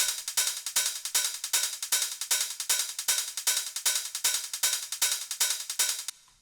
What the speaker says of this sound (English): First one is this open 909 hi-hat, and it plays the standard offbeat pattern. And the second one is the 909 closed hat.